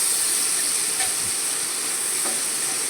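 Fenugreek seeds, dried red chillies, green chillies and chopped ginger sizzle in hot oil on an induction cooktop, a steady soft hiss with a couple of faint clinks.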